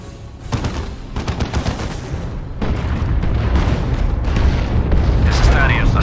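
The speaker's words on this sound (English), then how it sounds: "Incoming artillery strike!" Artillery strike in the Warhammer 40K Dawn of War II Chaos Rising campaign: a dense, loud barrage of booming explosions and crackling gunfire that swells and rolls on continuously.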